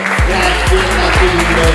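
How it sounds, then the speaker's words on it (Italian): Audience clapping for the staff at a Miss Principessa d'Europa beauty pageant selection in Mestrino, a steady dense patter of many hands with a few sharper claps standing out. "E farei un applauso a tutto lo staff"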